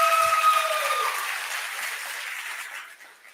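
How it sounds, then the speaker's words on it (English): A gala audience applauds nominees, a broad wash of clapping that starts full and gradually fades away over a few seconds, with a faint tone lingering beneath at the start. "please give a round of applause to everyone that was nominated as a Move Maker"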